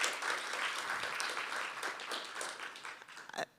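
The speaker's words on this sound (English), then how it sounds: "So can we get another round of applause for them?" A crowd at a live history symposium in San Antonio gives a sustained round of applause for two panelists. The dense clapping continues steadily and then stops abruptly.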